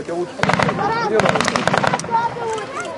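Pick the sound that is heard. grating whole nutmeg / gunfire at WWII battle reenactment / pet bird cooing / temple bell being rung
gunfire at WWII battle reenactment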